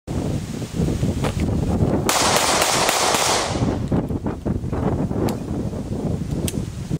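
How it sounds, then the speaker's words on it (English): Handgun shots fired from the hip crack out in a rapid, loud series outdoors, with wind buffeting the microphone and a sharp burst partway through. "continue firing until the threat is fully stopped"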